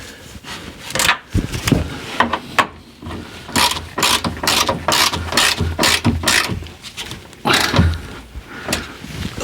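A hand ratchet tightens nuts back onto a rusty part, giving a close series of sharp, irregular clicking bursts with short pauses between strokes, and no talking.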